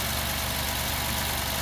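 Alfa Romeo Giulia Quadrifoglio with its 2.9-liter twin-turbo 90-degree V6 idles in a steady, even rumble, close and continuous with no voices over it.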